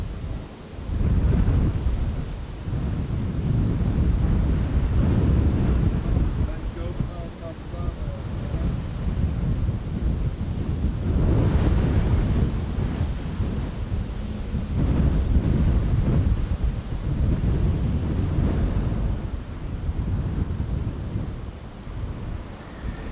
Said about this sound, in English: It is a very windy day here.